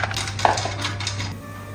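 Bitter sea snails are rinsed in a pot before blanching, with a sharp shell-and-metal clink near the start, then soft scraping and sloshing rattles that fade toward the end. No one speaks.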